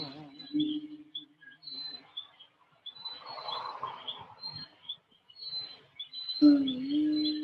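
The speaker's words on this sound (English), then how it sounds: "there's a weird kind of almost like a bird chirping sound" Intermittent squeaky, chirping noises like a bird or a squeaky wheel come in short bursts, some faint and some louder, mixed in with talking.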